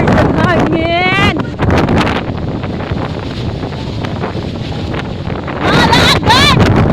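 Strong typhoon wind roars steadily across the whole span, a loud broadband rush with gusty swells, while people talk and exclaim over it near the start and end.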